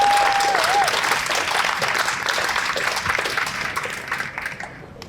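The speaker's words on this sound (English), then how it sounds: "Let's give them a round of applause for all the nice work" Applause for contractors at a bandstand dedication ceremony: a crowd claps steadily and loudly for about five seconds, tapering slightly toward the end, with a brief whistle-like tone near the start.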